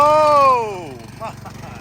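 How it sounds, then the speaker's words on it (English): Lawnmower engine towing a car: a strained buzzing motor whose pitch falls steadily, then a rattling, uneven idle; voices and background noise around it. "Spanky is being towed by a lawnmower."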